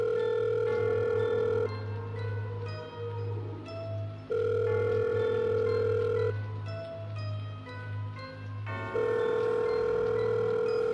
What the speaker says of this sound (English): The phone rang several times.